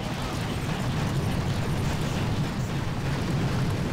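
Rocket explosions in the video game Boom Beach, heard as a dense, continuous roar of overlapping blasts and rumble at steady loudness for about four seconds, with no talking.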